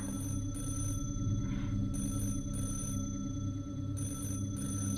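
A telephone bell rings inside the game Fallout: New Vegas, repeating in steady bursts with short gaps over a constant low electronic hum, loud and alone with no talking.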